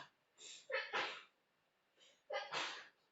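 Two sneezes in quick succession, each with a sharp breathy intake followed by a loud explosive burst, close and clear.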